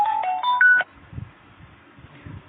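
A phone rings in with a short series of melodic ringtone or keypad tones, loud and close, then cuts off into a low, quiet room background with faint shuffling.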